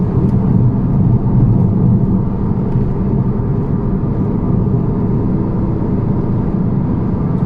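Steady, loud engine drone and road rumble inside a 1992 Audi Coupé Quattro V6 with all-wheel drive as it accelerates. The noise is continuous and even, with no voices.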